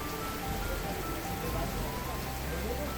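Rain falls steadily on surfaces in an Indonesian setting near a market, a dense, even hiss of droplets throughout with no clear voices.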